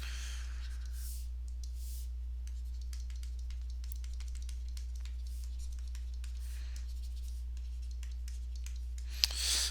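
A pen scratches and taps on paper while a math problem is written out by hand, faint and irregular over a steady low electrical hum, with no talk.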